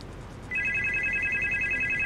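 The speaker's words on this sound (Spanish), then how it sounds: "A ver, el teléfono." In the horror video game Supernormal, a telephone begins ringing after a short quiet start, a bright electronic trill that holds steady and loud to the end.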